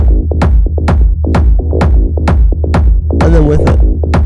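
Layered techno kick drum programmed in Ableton, a loud steady four-on-the-floor pulse of deep thumping hits with a rumbling low tail, with extra textured layers and stereo movement appearing near the end.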